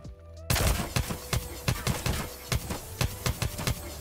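Rapid bursts of gunfire from hip firing in a first-person shooter, with sharp repeated shots starting after a brief quiet lead-in and continuing in an uneven rhythm, loud and close.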